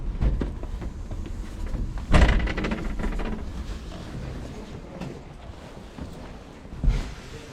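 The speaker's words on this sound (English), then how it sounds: "Look at these old doors." Old wooden doors in the North Euston Hotel, Fleetwood, thump and knock as they open and close, with one loud bang near the middle and a softer knock near the end over steady room noise.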